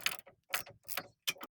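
A wrench ratchets a 24 millimeter nut tight on the strut rod bushings of a Nissan Frontier, giving four short clicking bursts with brief pauses between them, faint and close, with no voices.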